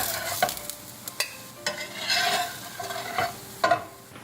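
Chickpea semolina cutlets frying in a pan over a medium gas flame, a steady sizzle with occasional stirring and scraping clinks, close and moderately loud, no talking.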